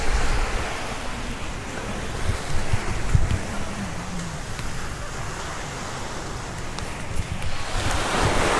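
Steady wind buffets the microphone over the broad wash of sea surf on a beach in Albania, continuous and fairly loud throughout.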